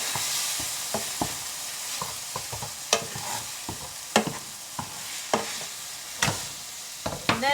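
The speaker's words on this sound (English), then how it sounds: "Give that a quick little stir." Onions and onion soup stirred in a hot pan, a steady sizzle broken by repeated scraping strokes of the utensil against the pan.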